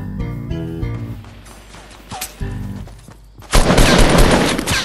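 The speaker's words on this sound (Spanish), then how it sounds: "Oye, aquí hay alguien disparando." Gunfire in the Fortnite video game: several sharp shots in a quick cluster over game music, then a loud, dense burst of rapid fire close by.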